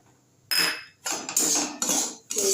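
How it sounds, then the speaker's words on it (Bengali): A metal spoon scrapes and clinks against a wok while semolina is dry-fried, giving a few loud, bright strokes in quick bursts with short pauses between them, close by and with no talking. "সুজি ভাজছি, বাটি মেপে সুজি দিলাম"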